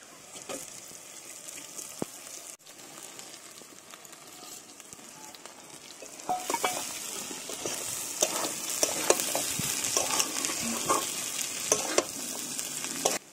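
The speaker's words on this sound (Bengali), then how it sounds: "মশলার মধ্যে দিয়ে দেবো ভেজে রাখা চাল।" Parched rice grains stirred into turmeric and chili spices frying in a pan, with steady sizzling that grows louder and busier halfway through as the stirring scrapes continue.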